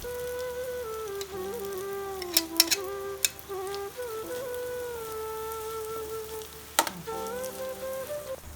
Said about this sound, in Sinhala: ලූණු ටිකයි ඉඟුරු සුදු ලූණුයි තෙලේ තෙම්පරාදු වුණාම ගෝවා ටික දාගන්නවා.